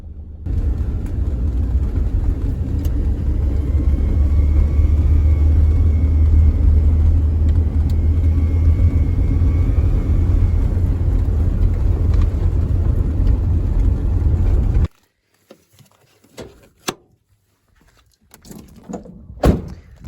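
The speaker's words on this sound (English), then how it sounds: "that noise sounds just like an EGR valve leak, or a boost leak, or a manifold leak" A Renault Master 2.3 dCi 2015 van engine with an EGR valve leak runs steadily with a deep rumble and a breathy, hissing leak sound on top, then cuts off, leaving near silence with a few faint knocks.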